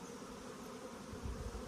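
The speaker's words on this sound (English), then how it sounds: "the second or third generation of bees are doing their job, and they're bringing that pollen in" Honey bees bringing pollen into a nuc colony make a steady, close buzzing hum that continues throughout at an even level.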